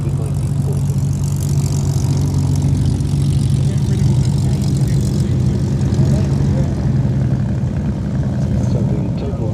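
Spitfires and Hurricanes flying as a big-wing formation at the Duxford Battle of Britain air show, a loud continuous roar of piston engines and propellers that stays steady and close, with faint crowd noise beneath.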